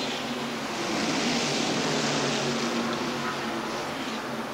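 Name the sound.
Family Channel blimp hovering above Talladega Superspeedway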